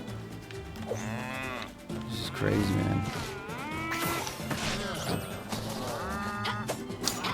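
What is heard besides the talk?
cow mooing in the video game Town of Zoz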